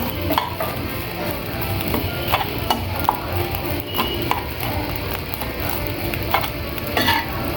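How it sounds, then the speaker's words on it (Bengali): A spoon stirs rohu fish roe curry (chorchori) in a cooking pot: steady scraping and soft clinks over a low sizzle, fairly close and continuous throughout. "ভালোভাবে আবার একটু নাড়াচাড়া করে নিচ্ছি।"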